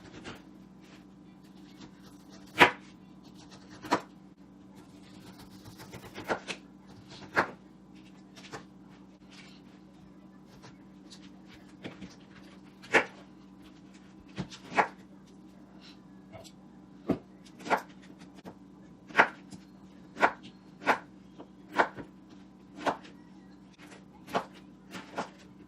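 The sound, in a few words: cutting a pineapple with a sharp knife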